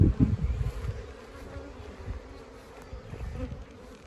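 Honeybees buzz around a school-sponsored hive, a steady close insect drone with a few louder passes near the start and again toward the end, no voices.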